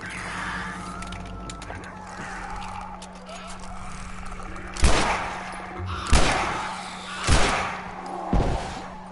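Gunshots in The Last of Us, four loud separate shots spaced about a second apart, each with a short reverberant tail over low game ambience and a steady hum.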